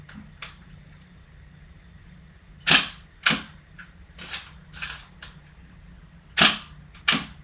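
Several sharp mechanical clacks from a Hasselblad medium format camera shutter dry firing with the back removed, in irregular succession, some close together as pairs, over a quiet low hum; crisp and fairly near.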